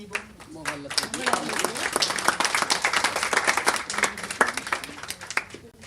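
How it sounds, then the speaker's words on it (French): An audience applauds a prize winner at an art exhibition awards ceremony in Aulnay-sous-Bois, with dense, steady clapping from a room full of people lasting several seconds while voices chatter underneath. "On va l'applaudir."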